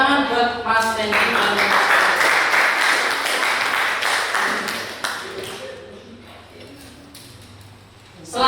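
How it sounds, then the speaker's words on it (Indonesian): Classroom applause for a student, a burst of clapping from a group of pupils that rises quickly, holds for several seconds and then fades away, with some voices mixed in. "Tepuk tangan buat Mas Randy."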